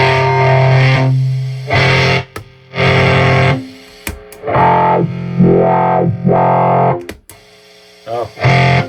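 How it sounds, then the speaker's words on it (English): An electric guitar runs through a vintage 1970s Morley Power Wah Fuzz pedal with tone and intensity turned up, giving thick, buzzy distorted chords and sweeping wah notes, loud and close, in several strummed phrases. "it just gets real buzzy because I have the tone up and the intensity up"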